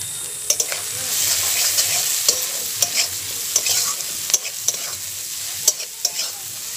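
Chili and turmeric powder stirred through hot frying oil for a fish-head dish, a steady bright sizzle with repeated sharp scrapes and clicks of a spatula against the pan, close and alone without talk.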